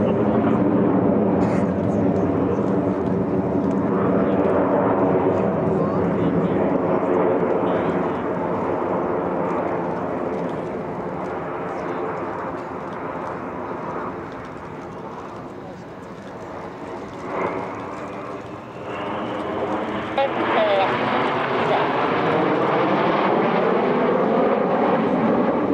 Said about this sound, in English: As the aircraft heads skywards once again